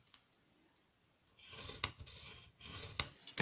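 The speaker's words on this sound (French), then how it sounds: "Je vais le faire à la paire de ciseaux." Scissors snip and slide through paper up close, with a couple of sharp cuts and rasping strokes after a quiet start.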